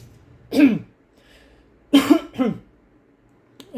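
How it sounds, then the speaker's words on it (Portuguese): Two or three harsh coughs ring out close by, separated by a short pause, with near silence around them. "Desculpa aí pela tosse, tá, pessoal?"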